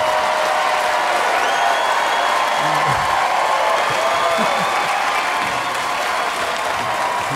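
Audience applause at a comedy special, a sustained burst of clapping with a few whoops and cheers mixed in, steady and fairly loud, with faint voices underneath.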